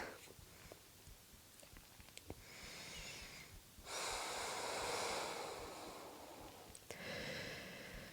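Slow, deep breathing during a morning vinyasa yoga flow, long airy inhales and exhales close to the microphone, rising and falling in an unhurried rhythm.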